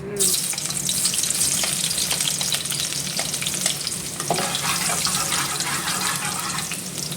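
Garlic fries in hot oil in a pan for ginisang monggo, a loud, close, continuous sizzle with faint stirring scrapes and bubbling over it, and no talk.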